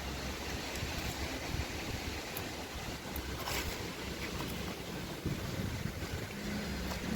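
Strong wind rushing and buffeting the microphone, a constant roaring blow with occasional faint ticks, no voices.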